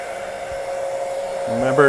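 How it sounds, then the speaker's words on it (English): A heat gun blows a steady, loud whoosh of hot air over heat-shrink tubing covering a solder joint on a light, with a faint rising whine near the end. "you'll just take your heat gun"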